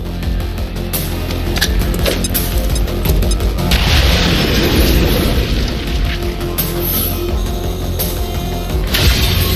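Frag grenade blast in the video game XCOM 2, a loud booming explosion with crashing debris, set amid a dense, sustained battle din of further impacts and rumble.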